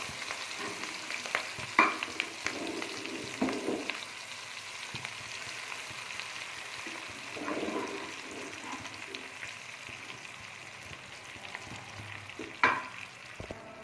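Cooked moong dal fries in oil, a soft steady sizzle broken by a few scraping stirs and spoon knocks, close by with no talk.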